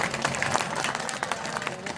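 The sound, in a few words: audience applause at Hindi comic poetry gathering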